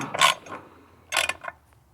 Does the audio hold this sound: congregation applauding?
no